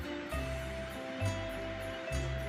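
Fast-flowing Godavari river at Kovvur, swollen after rains, with a steady broadband rush of moving water and surging waves over a low, pulsing rumble, close and continuous.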